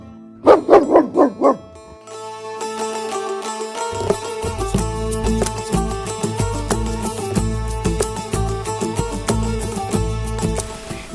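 Village dogs bark in a nearly deserted village: a quick close run of about five loud barks at the start, then a steady music bed carries on for the rest.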